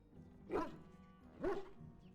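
The Mabari Hound in Dragon Age: Origins barks twice, about a second apart, each a short, full bark over a quiet game background.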